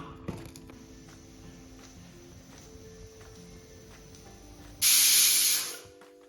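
A pressure cooker cooking dal vents steam through its whistle in one loud, sharp hiss lasting about a second, close by, after a stretch of quiet kitchen background with faint knocks.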